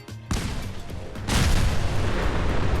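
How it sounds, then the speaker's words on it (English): Car explosions chain together in the Fallout 4 video game, one loud booming blast after another with heavy rumbling debris, dense and continuous at close range. "the cars are packed so tightly that detonating one will typically initiate a chain reaction that clears out the entire vault"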